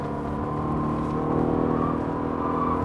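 A 2018 Mercedes-AMG GT S in race mode accelerating, its engine a steady close drone with dense harmonics that swell slightly and hold throughout, with no talk over it.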